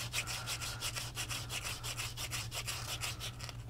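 Atari logo joystick parts are rubbed by hand during a restoration, a close, rhythmic back-and-forth scrubbing in even strokes of about two per second, with no talk.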